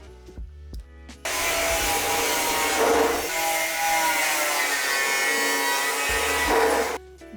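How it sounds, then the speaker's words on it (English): A power drill bores holes through the upper side of a Volvo 850R's metal sill, its whirring, grinding whine running loud and close for several seconds between brief quieter moments, with no talking. "I'm using a drill to make the holes on the top side"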